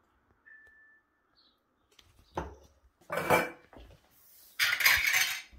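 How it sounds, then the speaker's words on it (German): Clattering clicks of a lid closing on a glass jar of homemade strawberry jam in a home kitchen, a few sharp knocks and scrapes separated by quiet gaps, close up. "dass man sehr schnell den Deckel zumacht dann"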